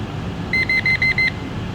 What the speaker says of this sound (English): There's the alarm. So we are getting an alarm.